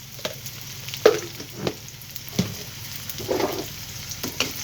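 Chopped onion with salt fries in hot oil in a kadai for rice biryani, soft sizzling under intermittent scraping stirs, close and fairly loud, with no talk.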